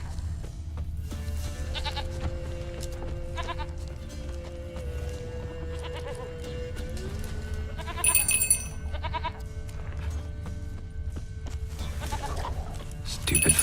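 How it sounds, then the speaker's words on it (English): A goat in The Witcher 3 bleats amid clip-clopping hooves and game ambience, with a few short calls standing out briefly over a steady low background. "Stupid fucking goat."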